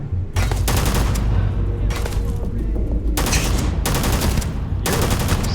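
Loud bursts of automatic gunfire from the sci-fi video game Starfield during a raid, with several sustained volleys separated by short pauses over a deep, rumbling low end.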